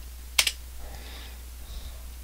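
A command typed on a computer keyboard in an Ubuntu terminal: one sharp close key clack followed by a few faint, soft keystrokes over a low electrical hum.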